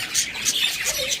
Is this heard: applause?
no